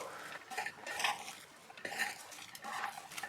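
Cabbage pakora ingredients are mixed and pressed together by hand in a bowl, giving soft, rhythmic squelching and rustling strokes in short repeated bursts, fairly close and quiet.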